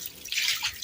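During a cat's bath, water is poured over it in a short, soft splashing trickle, heard close by for less than a second.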